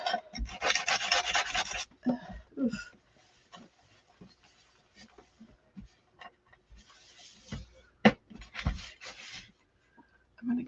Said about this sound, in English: I'm going to get a different sander.